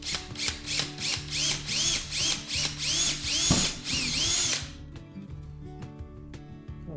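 A power drill bores through a hat resting on an old wooden block, heard as a run of rhythmic whirring bursts that rise and fall before the motor cuts out and only a low hum remains.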